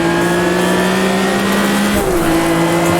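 A classic H-pattern race car's engine drones loudly and steadily in Automobilista 2, with a sustained harmonic whine that dips briefly as the gear changes near the end, close and continuous.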